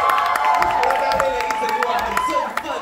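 Audience at the 57th Golden Bell Awards clapping and cheering, a dense burst of applause with scattered shouts and whoops, moderately loud, mixed with voices talking over it.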